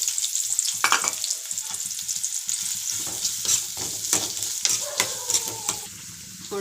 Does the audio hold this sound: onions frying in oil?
yes